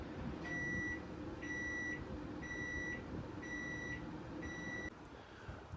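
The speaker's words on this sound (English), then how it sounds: "my microwave is about to go off" A home microwave oven gives five evenly spaced electronic beeps as it finishes, each about half a second long, heard clearly over a low background hum.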